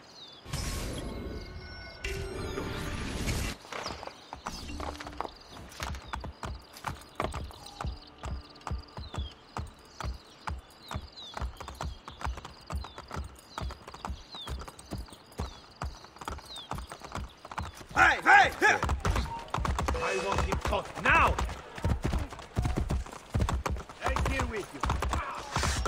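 Horse hooves clip-clop at a gallop in Assassin's Creed Brotherhood, a long, steady, close run of beats mixed with game sounds and a brief voice, growing busier and louder near the end.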